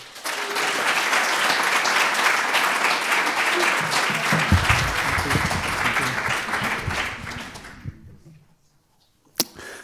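An audience at a James Schuyler centenary poetry celebration applauds steadily to welcome poet Simon Pettet, the clapping sustained for several seconds before dying away, followed by a lone sharp knock.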